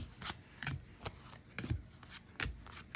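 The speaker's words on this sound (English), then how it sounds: "hand shuffle, overhand shuffle." Oracle cards are overhand shuffled by hand, giving soft, irregular riffling and slapping bursts at close range, quiet and spaced unevenly with no talking.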